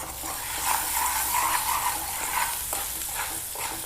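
Dried red chilies, chana dal and urad dal frying in hot groundnut oil for tempering, a close, dense crackling sizzle with faint stirring scrapes, steady throughout the short moment.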